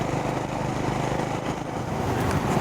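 A Honda H'Ness CB350 motorcycle exhaust gives a steady, close, even low thrum that stays constant throughout without revving or changing pitch.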